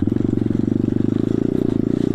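A pit bike's small engine putters in a steady, rapid pulse while riding through a snowy winter forest. The note is close and fairly even, with a faint clatter and no talking.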